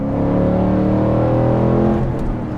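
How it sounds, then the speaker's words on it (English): Ford Mustang GT fitted with an aftermarket exhaust revs hard and close, a loud, steady engine roar with layered harmonic drone holding throughout, easing slightly near the end. "This one also has an aftermarket exhaust. Sounds really awesome."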